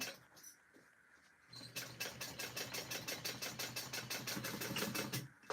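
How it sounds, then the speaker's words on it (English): A sewing machine stitching a tote bag seam runs in a fast, steady mechanical rattle after a quiet start, close and continuous for several seconds before stopping. "sew at your 3/8 inch seam allowance"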